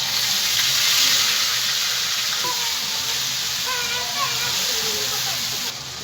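A ginger, chili and cumin paste sizzles in a hot pan while khichuri is cooked, a steady close hiss with faint crackles throughout, with some faint background sounds mixed in.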